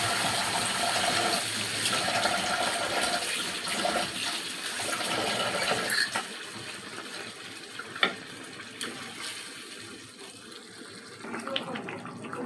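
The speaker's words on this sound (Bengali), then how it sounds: "তো এখন আমি পানি দিয়ে দিব।" Water is poured into a pot of free-range desi chicken curry, a continuous gushing rush up close, with a sharp clink and softer handling noises toward the end.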